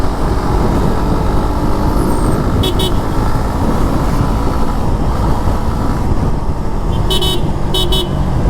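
A car moves through city road traffic, with steady loud engine and road rumble throughout and brief horn toots from nearby vehicles.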